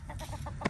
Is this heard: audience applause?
no